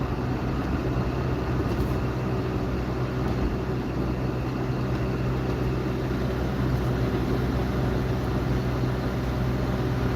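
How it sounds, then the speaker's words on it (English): Steady, loud, continuous road roar from semi trucks heard from inside a car on a highway in heavy traffic, a constant low rumbling hum with no gaps and no talking. "That's the road noise from those semi trucks."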